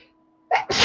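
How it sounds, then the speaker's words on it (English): A person sneezes once up close, a short inhaled catch followed by a loud, explosive burst after a near-silent pause. "Got caught by a sneeze."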